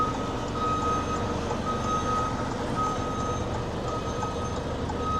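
A truck and trailer reverses slowly through a tight spot, its steady reversing beeps pulsing at an even rhythm over a constant loud engine rumble, with no talking.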